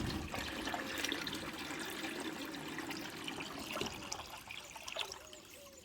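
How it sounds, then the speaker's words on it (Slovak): Well water pumped by a Parkside pump runs from a tap into a 12-litre bucket, a soft, steady splashing trickle that carries on faint and unbroken. "A vyskúšame naplniť toto 12 litrové vedierko."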